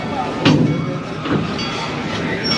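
Inside the Serengeti Express train at Busch Gardens Tampa during the ride: a steady rumbling rattle with a couple of louder clunks, a continuous moderate din.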